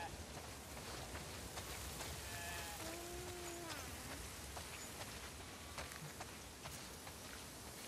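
A sheep on a farm in The Last of Us Part 2 gives a single wavering bleat, with steady rain falling on surfaces and a faint second bleat behind it.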